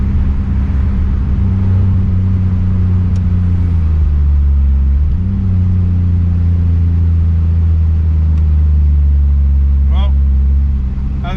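Ford FG XR6 Turbo with a Barra engine and aftermarket exhaust running, a loud, steady, deep exhaust drone with a brief pitch dip midway, heard close and continuous.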